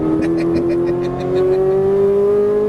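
Ferrari 458 Italia V8 engine pulling under throttle on a track, a steady loud whine rising slowly in pitch as the car accelerates, heard from inside with no talk.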